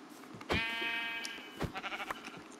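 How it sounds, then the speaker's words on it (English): Sheep bleat in the Minecraft video game, one long wavering bleat followed by a second shorter bleat and a quick stuttering tail, clear and alone over faint background. "I'm gonna kill the sheep because I need wool."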